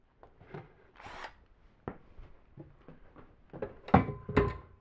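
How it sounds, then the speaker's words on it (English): A cordless power drill drives coated screws into pocket holes during wooden cabinet assembly, giving short whirring bursts with thunks and clunks, louder toward the end. "Putting screws in the holes."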